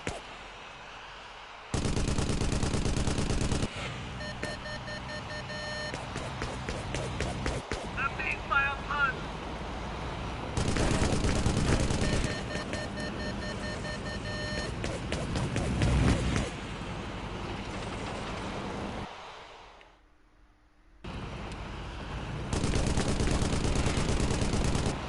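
Bursts of gunfire and explosive blasts from an air-combat mission in Air Conflicts: Vietnam, loud and dense, coming in heavy waves separated by short lulls with a brief near-silent gap near the end.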